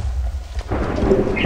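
Thunder rumbles in Minecraft, a low continuous roll that swells partway through, with rain-like hiss over it and no talking.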